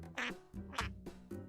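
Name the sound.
duck quacking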